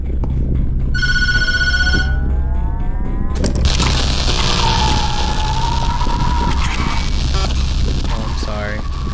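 A telephone rings in the Tattletail video game: a steady electronic trill repeats for about two seconds over a constant low hum, then further game noises follow.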